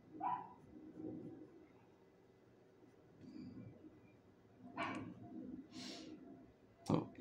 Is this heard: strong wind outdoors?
no